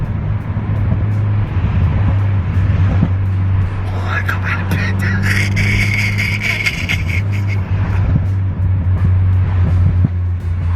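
A loud car engine roars steadily nearby, a deep sustained rumble with a brief higher revving burst in the middle, under a French-speaking woman's chatter.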